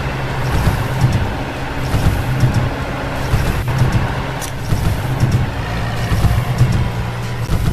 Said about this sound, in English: Engine.